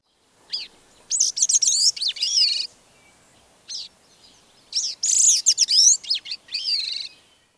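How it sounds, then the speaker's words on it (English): A gray-cheeked thrush sings clear, close phrases: complex jumbles of thin, nasal notes sliding downward in pitch, repeated in short bursts with quiet gaps. "The gray-cheeked thrush gives a complex jumble of notes, descending in pitch."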